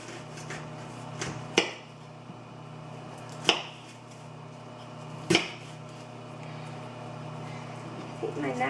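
A knife chops through a large onion for an Italian ragu, with three sharp, separate cuts spaced about two seconds apart over a quiet kitchen background.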